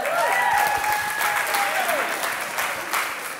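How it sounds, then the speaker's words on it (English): Crowd applause and cheering from wedding guests during a best man speech, loud and dense clapping with a few high whistles, tapering slightly toward the end. "Make some noise for Kevin, ladies and gentlemen."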